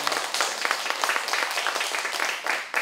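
Audience at a book talk claps steadily for the authors, a dense, even round of applause close to the microphone with no speech over it.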